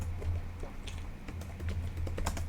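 Fingers tapping out Luau script for Roblox on a computer keyboard, a quiet run of uneven keystrokes with short pauses between them over a low steady hum.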